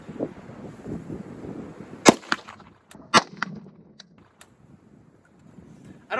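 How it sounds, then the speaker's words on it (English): Two sharp gunshots crack out about a second apart from a gun fired at a shooting range, each a brief loud snap with a short tail, amid quiet background rustle. "I'm going to see you take a couple shots too."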